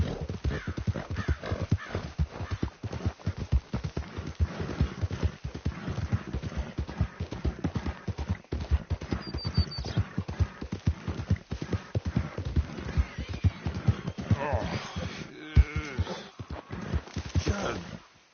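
Steady clip-clop of horse hooves in Red Dead Redemption 2 runs throughout with a horse whinnying near the end; a voice talks faintly underneath.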